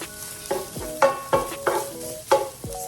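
Ground meat for New Orleans dirty rice fries in a pan under a soft sizzle while a spoon stirs and scrapes it in about five regular, close strokes.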